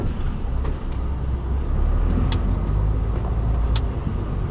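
A vehicle's engine drones steadily as it swings round in a wide circle into a yard, a continuous close low rumble with faint higher clicks and rattles, no talking.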